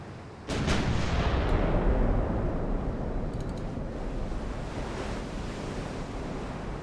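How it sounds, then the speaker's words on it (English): Heavy cruisers firing naval guns in the naval warfare game Ultimate Admiral: Dreadnoughts, a 1890 China campaign: a deep boom opens the clip, then a long rumbling roar like surf and wind rolls on, with a few faint distant reports. "Looks like our heavy cruisers are firing also."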